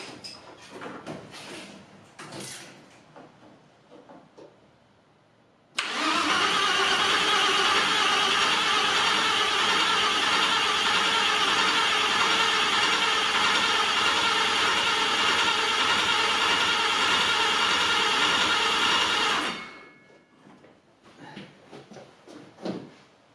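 A VW Corrado VR6 turbo 4WD engine is turned over, giving a loud, steady mechanical whirr that kicks in abruptly, holds for about fourteen seconds, then cuts off, with quieter clattering before and after and no talking.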